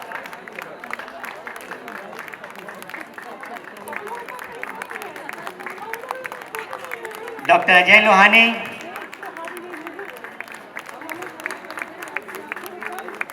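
Applause and cheering from the audience at a Holi Milan gathering in Patna swell in a short loud burst, with someone talking over a microphone before and after.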